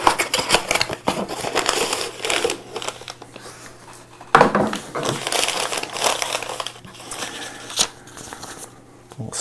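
Tape and a sticker are peeled and pulled off, giving repeated close crinkling rips and crackling bursts with short pauses between, some louder tearing strips, without talk.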